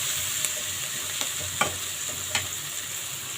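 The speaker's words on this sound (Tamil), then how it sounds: "வெங்காயமும் தக்காளியும் நல்லா வதங்கட்டும்" Finely chopped onion and tomato sautéing in a pan for a prawn thokku, a low steady sizzle with a few sharp spatula clinks and scrapes spaced through, no talking.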